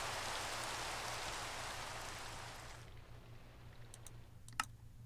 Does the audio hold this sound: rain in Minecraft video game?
yes